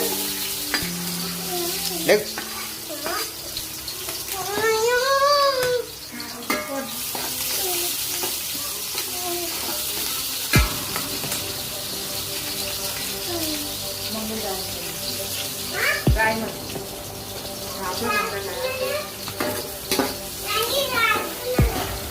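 Onions frying in a pan for mutton biryani, a steady sizzle with scraping and clattering of stirring, under intermittent speech and some tonal background sounds.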